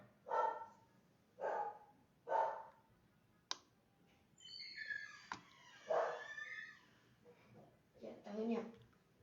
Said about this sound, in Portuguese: O cachorro aqui tá me deixando doido